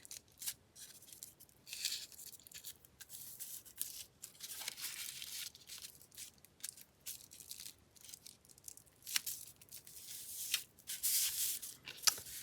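Paper card is folded and handled for a Rolodex craft, with soft crinkles, rubs and short creasing scrapes coming in quiet irregular bursts, close up and without speech.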